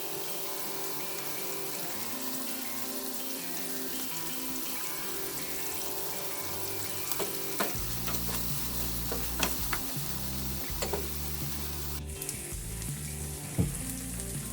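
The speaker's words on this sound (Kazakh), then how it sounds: "Міндетті түрде суы кеткенге дейін қызартып қуырып алыңыздар." Pasta horns fry and get stirred in a pan until their water cooks off. A steady sizzle runs the whole time, with scattered scraping clicks from stirring. Some water noise sits in the background, and no one speaks.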